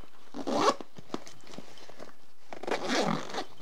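A backpack compartment zipper is pulled in two quick, close rasping strokes with a short pause between them.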